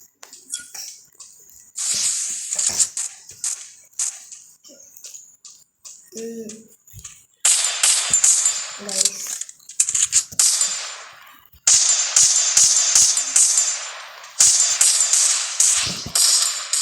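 Rapid bursts of gunfire from a shooting video game, loud close volleys and single shots in quick repeated runs, with short gaps between.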